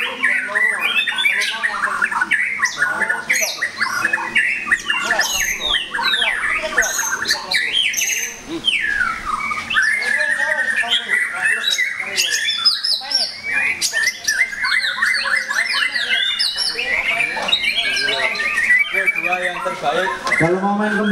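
White-rumped shama (murai batu) songbirds at a bird-singing contest pour out rapid, loud, overlapping whistles, chirps and squawks without pause, with voices murmuring in the background.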